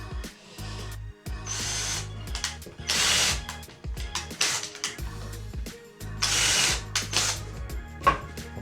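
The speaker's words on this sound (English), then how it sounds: "what I need to do is drill some more pilot holes down the bottom down here" A power drill whirs in repeated bursts, starting and stopping several times as it bores pilot holes in a campervan conversion, with brief pauses between runs.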